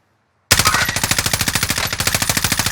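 Sustained automatic gunfire in Call of Duty Warzone on the Caldera map, a rapid, steady stream of loud close shots beginning abruptly and running without pause, with no talking.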